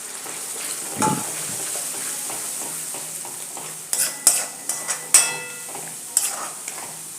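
Tomato paste stirred and cooking in a pav bhaji pan, with a steady soft sizzle under scraping and clinking of a spoon against the metal pan, a few sharper knocks near the end.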